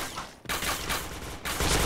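Rapid gunfire bursts in the first-person shooter Point Blank, two sustained volleys of shots separated by a brief gap, loud and close.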